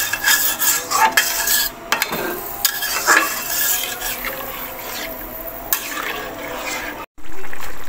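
A ladle scrapes and stirs a simmering vegetable and fish curry in a pot after water has been added, with irregular clanks and swishes against a soft bubbling, up close.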